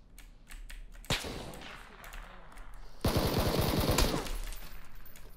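Gunfire in PlayerUnknown's Battlegrounds: one sharp shot near the one-second mark, then a rapid automatic burst of close shots about three seconds in, with a few fainter distant shots scattered around it.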